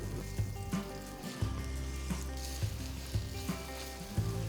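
Mushroom galouti kebab mixture frying in ghee, a steady close sizzle with soft stirring scrapes and small pops throughout, no voices.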